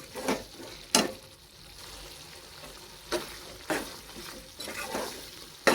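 Tomato chutney with green chilies sizzles and fries in a pan while being stirred, with a handful of sharp scraping, sizzling bursts spaced irregularly over a steady low fry, close and fairly clear, with no talking.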